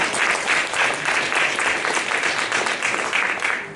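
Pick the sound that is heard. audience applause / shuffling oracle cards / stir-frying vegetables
audience applause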